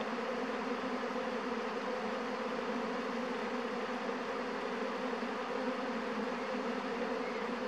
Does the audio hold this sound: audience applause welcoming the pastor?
no